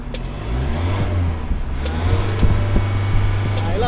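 A Ford Everest Next-Gen SUV engine with an HKS twin-tail carbon muffler rumbles and revs in several rising bursts, with a deep throaty exhaust note, fairly close and loud throughout.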